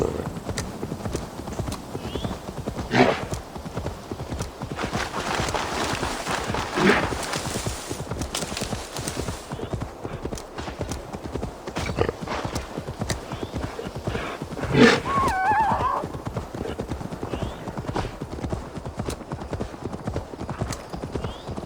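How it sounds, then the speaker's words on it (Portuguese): Horse hooves clip-clop steadily through a scene in Assassin's Creed Valhalla, with a few neighs and whinnies rising above the game ambience while someone talks over it at times. "Um cavalinho ali, ó."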